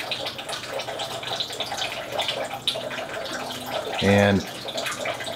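A cleaned nickel coin is rinsed under running tap water: a continuous splashing flow over a sink, with a brief louder gush near the end, while a person talks over it.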